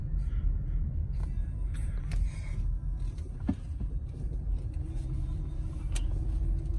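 A Scion iA car drives slowly at about 10 mph, with steady low engine and road rumble from inside the cabin and a few faint clicks and knocks.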